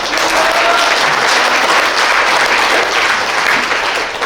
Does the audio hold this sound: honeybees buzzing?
no